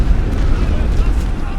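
Explosions blowing up trenches in The Great War: Western Front, a World War I strategy game, rendered as a loud, continuous low rumble of blasts with no distinct separate booms.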